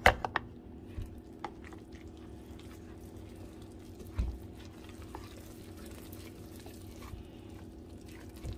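Eggs being mixed into corn pudding batter give a soft, wet stirring with small squishes and occasional light knocks of the utensil against the bowl, quiet and close, with no talking.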